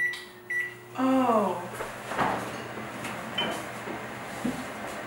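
A microwave oven gives a few short beeps, then runs with a low hum while people chat and laugh nearby in a kitchen cooking contest.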